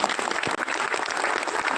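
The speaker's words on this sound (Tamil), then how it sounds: "மாணவர்களுக்கு மீண்டுமாக நமது பாராட்டுகளை சத்தமாக வழங்கலாம் கைத்தட்டங்கள் மூலம்" Audience applause for students at a school function: steady, dense clapping from a crowd, fairly loud and continuous throughout, with no talking over it.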